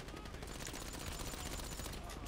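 Rapid gunfire in the video game Grand Theft Auto V during a heist, a dense, quiet string of shots rattling continuously for a couple of seconds in the game mix.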